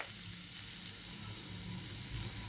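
Sweetcorn sizzles in a hot pan with Kashmiri chilli powder, salt and spices, a steady close crackling fry with soft stirring, no voices over it.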